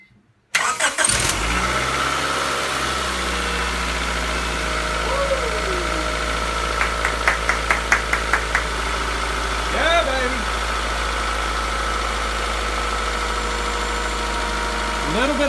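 A 22-year-old car engine cranks and fires up close, then settles into a steady idle with light, rapid valve tapping ticking over the hum; no speech, just a few brief squeaks.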